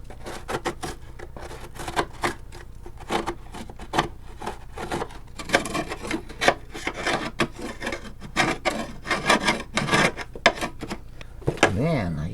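A planer blade scrapes repeatedly at caked-on grass and dirt under a Honda lawn mower, giving close, loud, irregular rasping strokes in quick bursts, ending with a short clatter.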